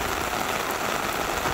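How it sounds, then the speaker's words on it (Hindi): Heavy, warm rain pouring down in windy weather makes a dense, constant rushing hiss that is loud and close, with no voices. "देख सकते हैं आप कितनी तेज बारिश हो रही है"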